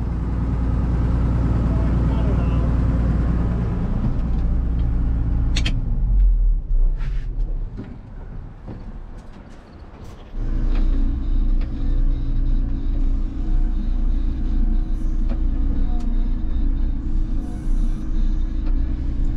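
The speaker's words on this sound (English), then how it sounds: "right now we got the combine out" A combine harvester engine drones loudly and steadily up close, dips briefly in the middle, then returns to its deep continuous rumble.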